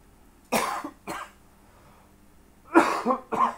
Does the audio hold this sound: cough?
yes